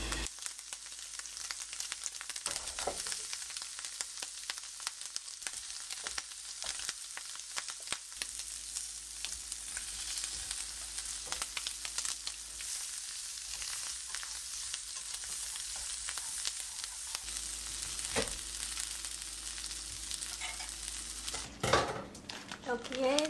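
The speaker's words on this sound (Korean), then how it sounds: "오늘 저녁은 미니 양배추 베이컨 볶음을 해서" Mini cabbage and bacon stir-frying in a pan, a steady close sizzle with occasional scraping and stirring clatter, running continuously under quiet background sound.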